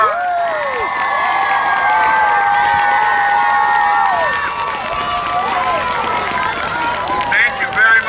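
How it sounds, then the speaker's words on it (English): A loud crowd at a Moose Lake School community gathering cheers, shouts and claps continuously, with high whooping voices rising over the clapping. "Let's give these wonderful members of our community a big round of applause."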